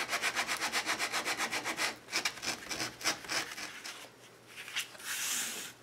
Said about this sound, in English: And I just go along the edge with the sandpaper and then push it out so that it frays.